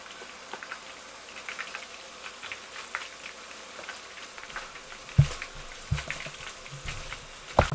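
Potato peels frying in hot oil, making a soft, steady sizzle with scattered crackles and a few sharper pops toward the end.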